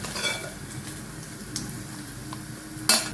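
Paneer cubes frying lightly in a pan, a steady soft sizzle with faint scraping and stirring, plus a sharp metallic clink near the end.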